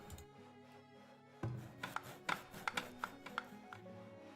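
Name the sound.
chopping down trees in video game Farthest Frontier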